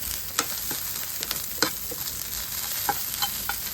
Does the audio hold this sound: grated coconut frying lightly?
yes